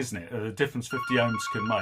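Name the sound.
phone ringing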